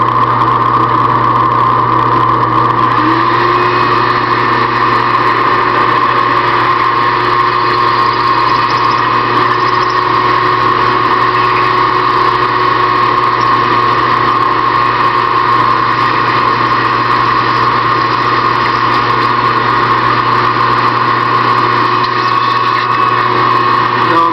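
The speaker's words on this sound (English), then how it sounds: "we're going to drill this baby out and see what we can do with it" A part being drilled out on a home machining setup in a kitchen: a loud, steady motor whine with sustained humming tones runs unbroken for about 24 seconds, close and alone with no talking.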